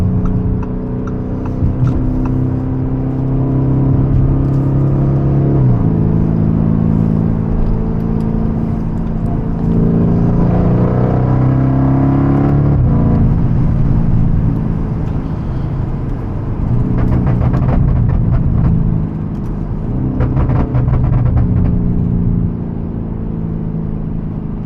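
A Novitec widebody Lamborghini Urus with a Gintani Stage 2 tune drives along with a loud, deep exhaust rumble, rising and falling with throttle over a sustained cruise, heard from inside the cabin.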